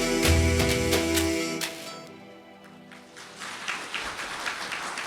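A group claps along after a devotional song at a dance gathering, the music fading out as scattered, rhythmic hand claps continue, moderately close and fairly soft.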